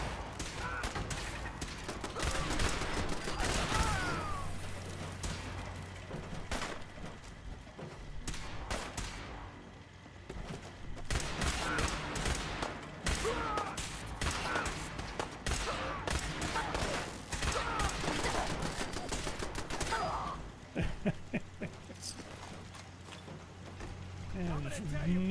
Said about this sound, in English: Combat rifle.